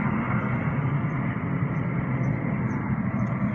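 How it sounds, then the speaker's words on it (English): A road plow scraping past on a gravel rock road out back, a loud, steady broadband roar and rumble that holds constant throughout, close by, with no voices. "Sorry about the noise, the plow's going by."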